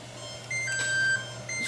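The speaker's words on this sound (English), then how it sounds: "Set that timer off." A kitchen timer beeps in short, high, thin tones, a few quick pulses over a low steady hum in a home kitchen.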